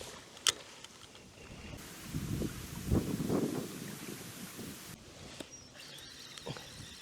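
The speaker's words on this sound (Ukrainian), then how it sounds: "реально вітер такий сильний" Strong wind buffets the microphone in uneven gusts while fishing by the water, rumbling and swelling for several seconds with a few faint knocks and splashes.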